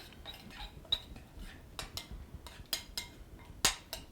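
A spoon stirs pita pizza toppings seasoned with pepper and oregano, giving light, scattered metallic clinks and scrapes against a dish, close by and fairly quiet.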